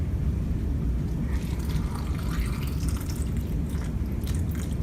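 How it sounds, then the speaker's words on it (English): Tap water runs steadily over a tomato being washed, a continuous splashing, dripping wash at close range with no voices. "when we wash our tomato, usually we use tap water"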